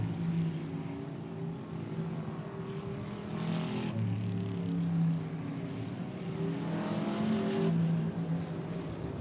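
Race cars circle the South Texas Speedway track in a steady engine roar that swells twice as the pack passes, heard from a distance with no clear talk over it.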